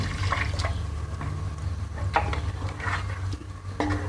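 Water poured into a pot of chickpea curry (cholay ka salan) on a stove, a steady liquid splash and trickle over a low hum, with a few brief clinks and drips, no talking.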